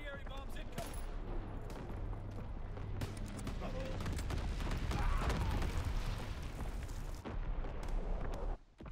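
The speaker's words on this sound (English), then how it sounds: "Incoming enemy artillery." Continuous heavy gunfire and booming explosions from artillery and bombing in a Call of Duty WWII Domination match, a dense, loud barrage of blasts and rattling shots with game voice callouts mixed in.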